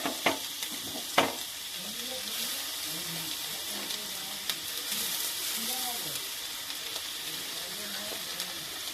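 Ginger and garlic frying with onion in a pan, a steady sizzle with a few sharp utensil knocks near the start, while a voice talks faintly in the background.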